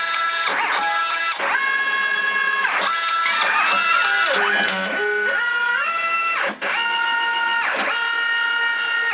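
A computer-driven marking machine traces the cut line on ornithopter fabric, whirring and whining with sweeping stepper-motor tones that rise and fall in repeated passes, loud and close.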